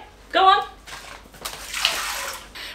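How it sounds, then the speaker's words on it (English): Tap water runs into a plastic bin being filled halfway to salt deer skins, a splashing gush that starts abruptly and continues as a steady pouring rush. "Fill it with water about halfway."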